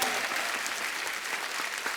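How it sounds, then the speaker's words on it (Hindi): A studio audience on a television comedy show bursts into loud, sustained applause to welcome the guests, a dense and even wash of clapping lasting the whole moment. "जोरदार तालियां हमारे मेहमानों के लिए"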